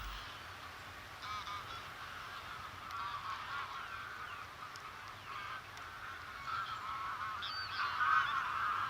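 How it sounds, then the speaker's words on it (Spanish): Thousands of geese feed in crop fields of sprouted cereal, a distant, continuous chorus of overlapping honks that swells slightly toward the end, with no voices. "Miles de gansos invaden los campos de cultivo para alimentarse de los cereales que han brotado tras el verano."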